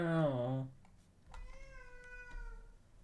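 A house cat meows to be let outside, one clear close meow followed by a quieter, drawn-out plaintive mew, with a person's voice briefly at the start.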